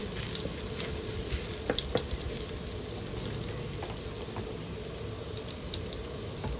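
Garlic sautés in a pan with a close, steady sizzle and faint stirring clicks scattered through it, and no one speaks.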